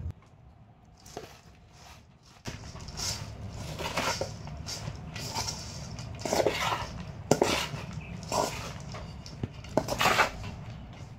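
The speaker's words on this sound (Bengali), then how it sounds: "অল্প অল্প গুড় দেব আর এইভাবে নাড়তে থাকবো" Puffed rice (khoi) is stirred with hot jaggery in a pot, giving dry rustling scrapes and knocks of a spoon against the vessel in uneven bursts, close and fairly loud with no talking.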